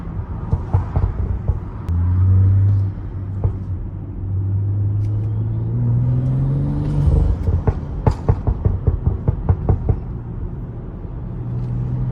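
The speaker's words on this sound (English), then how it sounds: "I'll let you guys hear the overrun brap sound too." A BMW F30 running a Max Burbles tune, its engine droning through acceleration and then crackling with a rapid string of loud exhaust overrun pops and burbles on lift-off, heard close from inside the car.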